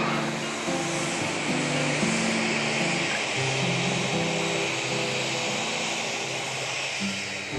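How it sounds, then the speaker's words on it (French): An Air Madagascar Boeing 767 airliner just after landing at an airport gives off a loud, steady roar of jet engines, a broad whooshing rumble with droning tones, close and continuous throughout. "Le Boeing 767 qui va être utilisé pour le voyage vers Bangkok vient d'atterrir en provenance de Paris"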